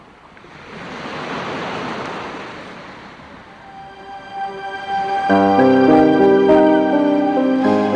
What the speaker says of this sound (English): You're going to wait through the ocean sounds, two measures in butterfly.